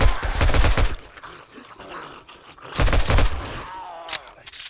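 Rapid bursts of gunfire from new guns in 7 Days to Die, loud clustered volleys at the start and again around the middle, with quieter stretches and a voice talking between them.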